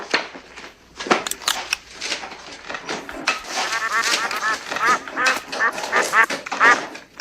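Zombie duck heads give a run of nasal quacks, several rapid quacks clustered in the second half, mixed with rustling and clatter. Voices talk over the quacks.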